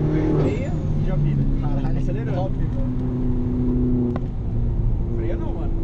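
A DS3R race car laps the Nürburgring in a racing game, its engine droning steadily and loudly throughout, with excited talk from a person over the constant engine noise.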